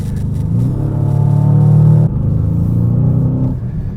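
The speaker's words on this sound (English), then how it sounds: "they wanted people to hear this beautiful turbocharged V8 at lower RPM" A 2025 Aston Martin DBX707's turbocharged V8 rumbles at low RPM, a loud, close, steady idle-like drone that briefly eases off midway before settling back in, with no talking.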